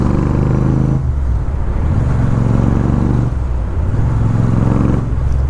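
A Royal Enfield Super Meteor 650 cruiser motorcycle fitted with a Red Rooster aftermarket exhaust rumbles close by with a deep, loud throb, its engine note dipping and climbing again in two throttle changes.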